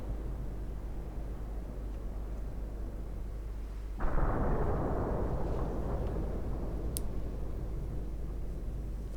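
Naval gunfire from 10.5-inch guns in Ultimate Admiral: Dreadnoughts, a single heavy boom striking suddenly over a constant low rumble, followed by a long rolling decay.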